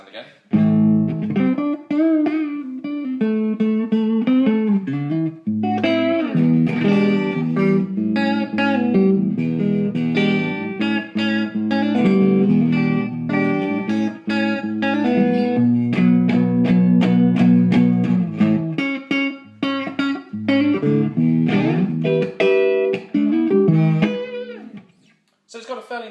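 Clean electric guitar tone through the clean channel of a Marshall G100R amplifier and 4x12 cabinet, playing melodic chords and single-note lines, steady and fairly loud, ending with a brief pause.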